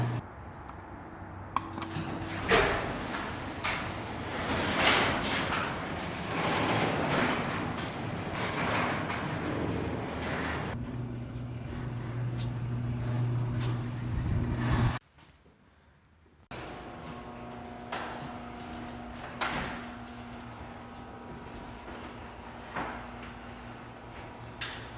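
Residential garage doors rumble and rattle along their tracks with steady mechanical grinding, motors humming under the clatter, then a brief drop to near silence before another door runs again, fairly loud and continuous throughout.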